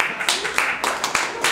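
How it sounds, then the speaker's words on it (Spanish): Applause breaks out for Queda Bárbara at a fair launch event, with bursts of clapping rising and falling in uneven waves and a voice heard over it. "Un aplauso para Queda Bárbara."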